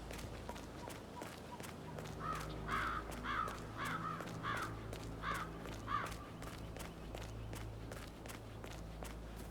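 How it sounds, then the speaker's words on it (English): Crows caw in a rhythmic series of harsh calls over steady footsteps in HITMAN 3, a stealth video game, the birds loud and near with a low ambient hum underneath. "It's the birds. They're making a racket, dropping them everywhere."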